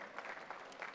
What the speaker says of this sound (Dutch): even een warm applaus